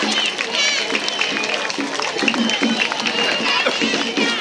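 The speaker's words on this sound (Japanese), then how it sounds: "拍手でお迎えください" A festival crowd applauds and cheers steadily to welcome dancers at the Nagasaki Kunchi festival in a central park, dense clapping close and continuous throughout.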